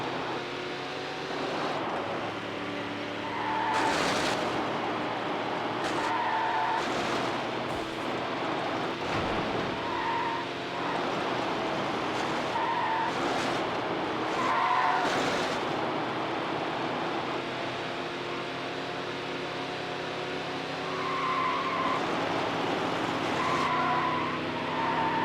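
Car tires skid and squeal repeatedly during a race in the video game Need for Speed Hot Pursuit 2, with a steady engine roar underneath and recurring screeching slides throughout.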